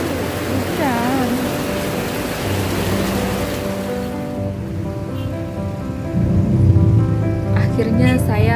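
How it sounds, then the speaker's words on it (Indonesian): Rain falls steadily around a visitor at Ragunan zoo, a dense hiss that thins out partway, with voices talking over it and some tonal background noise. "Nggak tahu apa gue berdiri di mana nih di antara tetesan hujan."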